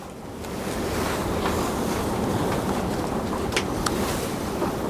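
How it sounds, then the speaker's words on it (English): Strong, steady wind roars continuously across an abandoned farm with a mid-1800s barn, broadband gusts buffeting the microphone with faint rattles of loose boards. "The wind today is pretty crazy. So everything's blowing around."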